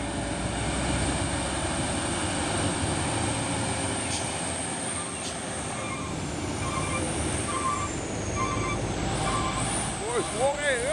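A Hino Euro 4 trailer truck engine rumbles steadily close by, with heavy low droning, hissing air and a few squeaky chirps near the end.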